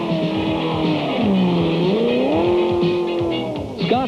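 An Indy race car runs on the Indianapolis Motor Speedway track during 1991 Indianapolis 500 practice, its loud engine note rising and falling close by in sweeping pitch changes.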